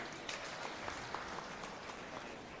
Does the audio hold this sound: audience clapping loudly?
yes